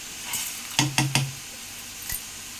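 Cumin seeds and toor dal hitting hot oil in a pan, giving a few sharp crackling pops and a brief sizzle, with a light clink of utensil against the pan; close, no talk.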